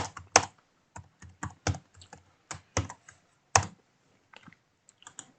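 Python code being typed on a computer keyboard: irregular bursts of crisp, close key clacks with brief pauses between words, sounding alone with no talk.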